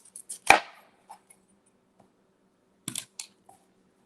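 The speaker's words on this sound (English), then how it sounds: "you want to chop the broccoli." Knife chopping broccoli on a cutting board, one sharp thud followed by a few lighter taps and a short cluster of cuts, close and alone with no voices.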